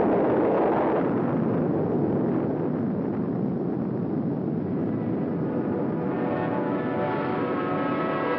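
An atomic bomb detonates in a Nevada nuclear test, heard as a loud, sustained roaring rumble that fills the whole stretch without letup, like wind battering a microphone, with no voices over it.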